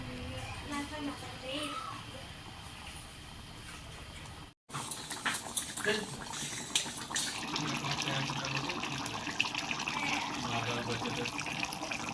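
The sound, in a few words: water poured into fish curry pot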